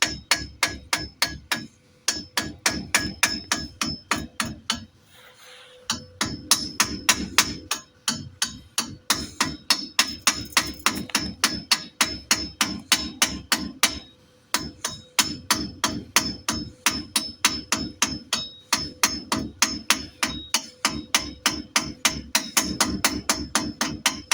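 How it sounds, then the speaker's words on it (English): Repeated hammer blows chip slag off a fresh steel weld on angle iron, sharp metallic raps in fast rhythmic bursts with brief pauses, loud and close with no talking. "gotta beat this this gunk, this covering off of this welded streak so I can see what it looks like"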